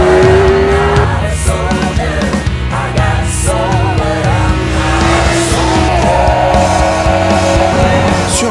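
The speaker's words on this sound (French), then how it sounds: "Entre le rugissement de l'échappement et le sifflement de la boîte à air, impossible de passer à côté." A Yamaha R6 four-cylinder motorcycle roars loudly at close range, its high-revving exhaust note rising and shifting with a sustained whistling tone from the airbox running over it the whole time.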